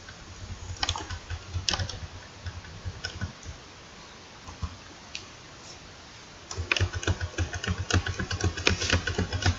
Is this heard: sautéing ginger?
no